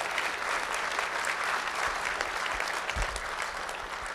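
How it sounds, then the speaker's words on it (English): A crowd at a town inauguration ceremony gives a sustained round of applause, a dense, even patter of many hands close by, with a few louder thumps near the end. "Let's give them a round of applause."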